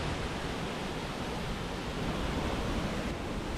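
Rushing water of Dog Creek Falls pours down a rock face in the Columbia River Gorge, a dense, steady roar that holds evenly from start to finish and is heard alone.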